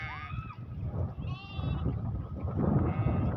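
Sheep bleat in a herding setting, with a few wavering, nasal cries rising over steady background rumble and a murmur of voices throughout.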